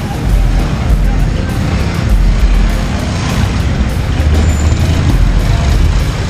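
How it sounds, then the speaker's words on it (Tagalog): Steady road traffic near East Ridge heard from a bicycle, a dense continuous rumble of cars and trucks passing close by with low engine drone throughout. "At as usual, traffic na naman dito."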